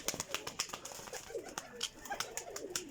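Several golden pigeons coo softly and repeatedly in a loose, overlapping rhythm, faint and close together.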